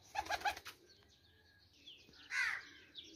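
Tournament racing pigeons at Amra Kalan give a few quick bursts of wing flapping with faint calls, fairly soft and intermittent against a quiet outdoor background.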